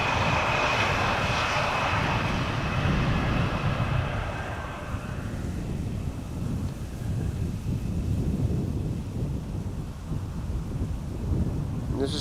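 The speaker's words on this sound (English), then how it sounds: "This is Air China Cargo arriving from Shanghai, flight 1039, 11 hours and 12 minutes on the way. 777 freighter" An Air China Cargo Boeing 777 freighter arriving at Amsterdam Schiphol from Shanghai roars loudly and steadily in the foreground, its engine noise mixed with strong gusting wind across the microphone.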